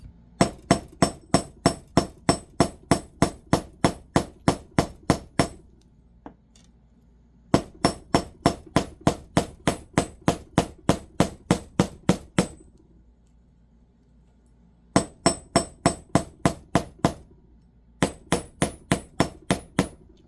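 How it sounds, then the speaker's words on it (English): Hammer tapping twisted braided wire for a Celtic bangle bracelet, sharp metallic ringing blows in rapid even runs of about ten to fifteen strikes, separated by short pauses, close and loud. "Just a nice little bit of hammering."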